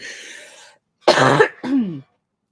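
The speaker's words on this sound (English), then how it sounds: "Excuse my cough." A raspy exhale is followed by a harsh cough and a shorter throat clearing, close and loud, separated by brief silence.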